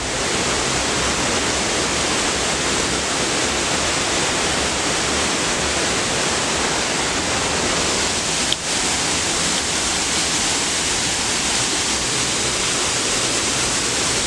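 Loud, steady rush of river water flowing by a hydropower site, running low over exposed rocks, a continuous broadband roar filling the whole span with no talk.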